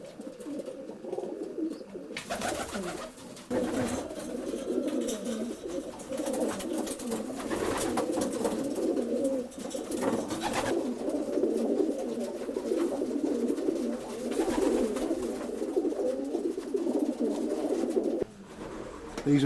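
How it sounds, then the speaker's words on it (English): Widowed racing pigeons coo steadily inside an old Scottish bird loft, a dense, continuous murmur of overlapping calls close by, with a brief dip near the start and end. "And all the widowed pigeons are still breeding."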